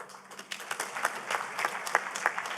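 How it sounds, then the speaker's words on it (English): An audience gives a round of applause at a pharmaceutical export summit and awards event, with scattered, distinct hand claps forming a moderate, somewhat distant patter that holds steady throughout. "a round of applause for His Excellency"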